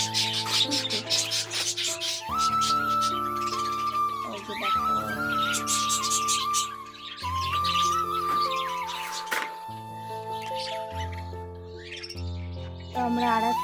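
Caged pet birds give bursts of high, quick chirps and tweets, repeated over a loud, steady, droning background of sustained tones.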